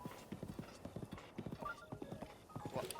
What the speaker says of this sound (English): soothe the horse.